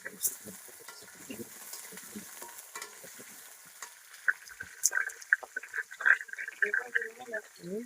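Papaya and potato pieces fry in hot oil in a wok over a clay stove, with crackling sizzles and scraping stirs that build toward the end, while a person talks intermittently over them.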